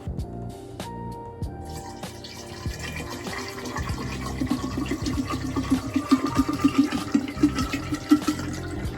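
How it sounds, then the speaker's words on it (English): Mango juice poured into a homemade mango wine mix, a steady liquid splash and gurgle that swells louder over the second half, with no talking. "We're gonna be adding the rest of the juice to the mix."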